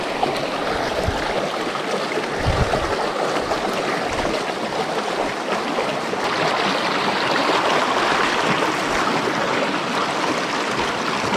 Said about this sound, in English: water's coming in through these pipes, dumping into the creek, the main creek